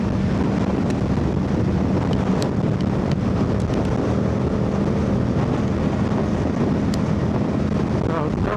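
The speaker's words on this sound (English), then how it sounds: "Get quite a bit of crosswind over here on the highway." Strong crosswind buffeting a helmet microphone while riding a Yamaha R7 motorcycle with Yoshimura exhaust on a New York highway; loud, continuous roaring rush of wind and engine drone, with a voice talking faintly under it.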